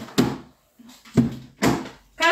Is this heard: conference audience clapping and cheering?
no